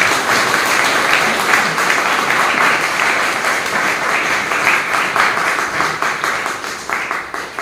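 An audience at a Brahma Kumaris gathering claps loudly and continuously, a dense crackle of many hands that holds steady throughout.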